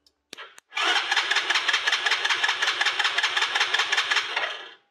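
A quad bike's engine cranks on its electric starter without firing, a fast even rhythmic churning that runs for about four seconds after a couple of clicks, close and loud with no talk.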